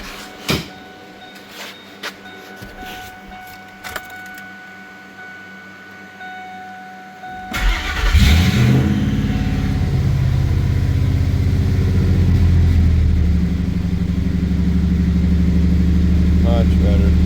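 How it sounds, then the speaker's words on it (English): A 2001 Ford F150 truck, just fitted with a new idle air control valve and EGR valve, cranks and fires up, then settles into a steady, close idle. Light clicks and handling noises come before the start. "Let's fire the truck up and see if we have better throttle response now."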